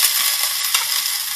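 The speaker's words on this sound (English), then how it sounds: "Can you hear the sizzling sound and the crispness of the potato?" Potatoes frying in a single pot for a creamy soufflé frittata give off a steady, close, bright sizzle with small crackling pops throughout, and no voices.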